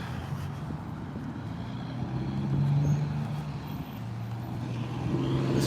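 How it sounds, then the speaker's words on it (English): A loud semi truck idles and rumbles close by in street traffic, a steady low engine drone that swells slightly midway and again near the end, with no talk. "this semi is in front of me being really loud"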